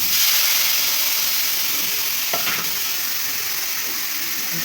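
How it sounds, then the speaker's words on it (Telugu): Carrots lightly frying in a kadai give a steady, close sizzling hiss throughout, with a brief stir or scrape near the middle and no talking. "ప్లేట్లో తీసేసుకున్నాం, పక్కన పెట్టేసుకొని ఇదే కడాయిలో క్యారెట్ వేసుకున్నాము."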